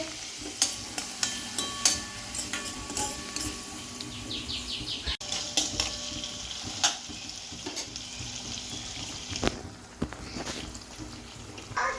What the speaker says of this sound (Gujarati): આ વઘાર થાય છે